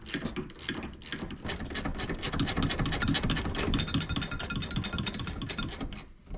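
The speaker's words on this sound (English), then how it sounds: "There's 4 13mm bolts that I've got a ratcheting wrench" A ratcheting wrench clicks rapidly and steadily while turning 13mm seat bolts on a Jeep Wrangler JK, a close run of dense metallic ticks that grows busier and louder toward the end.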